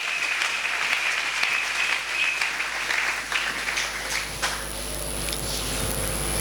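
A church congregation applauds in steady, sustained clapping that fills the whole stretch, with no voices on top.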